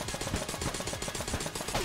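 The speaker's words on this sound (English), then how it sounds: "It's actually a good nail gun." Nail gun in the Exit the Gungeon video game firing in a fast, evenly spaced rhythm of punchy shots, about six per second, loud and close for the whole stretch.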